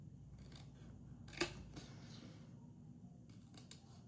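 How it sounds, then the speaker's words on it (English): Freshly sharpened scissors cut along a score line in a quiet room, making a few soft snips with one sharper, louder cut among faint background hum. "And these scissors are pretty sharp because I just had them sharpened here."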